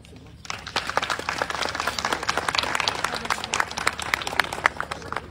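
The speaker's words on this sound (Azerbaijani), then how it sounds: "Alqışlarınız ilhamlandırdı bizi." An audience at the Kharibulbul festival in Shusha breaks into applause, a dense run of claps that swells in and holds steady throughout.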